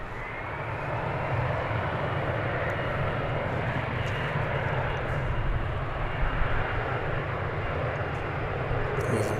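An arriving airplane at DFW International Airport produces a steady, broad engine roar that holds constant and fairly loud throughout, with no talk.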